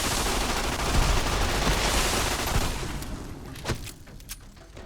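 Sustained, loud gunfire from a firefight in Fallout: New Vegas dense and roaring for about three seconds, then thinning into a few separate sharp shots as the noise fades.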